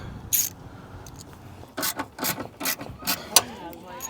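A wrench or ratchet tightening bolts on a Roto Fab cold air intake on a 2020 Chevrolet Silverado with a 6.2 or 5.3 V8, giving a few close, short metallic clicks and scrapes over faint background noise.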